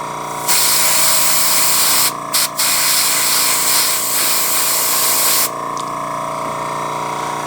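An airbrush sprays paint to weather the trucks of an N scale model locomotive, a close, steady hiss in two long bursts broken by a brief stop, over a constant compressor hum.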